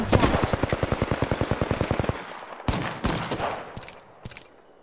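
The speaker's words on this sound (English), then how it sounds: "Listen up, I'm getting shot at." Rapid automatic gunfire in a shooter video game, a fast regular burst of close, loud shots lasting about two seconds, followed by a few scattered single shots and game effects, with little talk.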